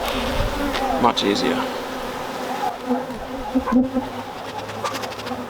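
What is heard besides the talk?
honey bees buzzing during brood box frame inspection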